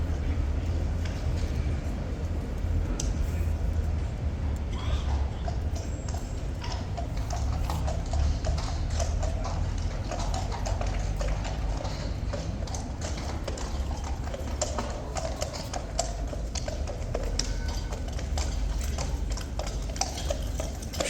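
Horses' hooves clip-clop steadily on pavement at Horse Guards in London, a continuous run of overlapping hoof strikes over a busy outdoor background that holds for the whole stretch.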